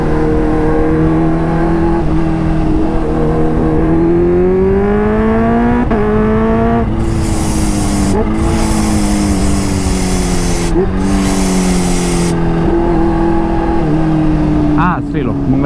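A loud, nearby supercharged Kawasaki H2 motorcycle engine with smart boost revs up and down repeatedly with a high supercharger whine, rising and falling pitch throughout, with a voice talking over it.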